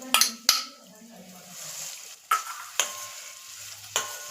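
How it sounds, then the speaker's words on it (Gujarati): Garlic sizzles in hot oil as it is stirred, with sharp utensil clinks against the pan at intervals over a steady frying hiss; no talking. "આપણું લસણ છે ને તેલમાં હળવા મળ્યું છે એટલે આપણે એને ધીમે ધીમે આમ મિક્સ કરતું રહેવાનું છે"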